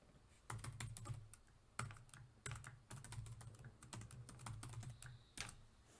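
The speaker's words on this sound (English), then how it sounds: "In the text editor, type the following code." Close, quiet typing of Python code on a computer keyboard, irregular clusters of crisp keystrokes with short pauses between bursts.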